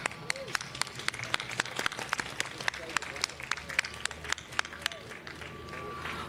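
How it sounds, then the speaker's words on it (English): Scattered audience applause at the Motorsports Walk of Fame honoring drivers, with sharp individual claps spaced irregularly over a low crowd murmur and background chatter. "Please join me in another round of applause."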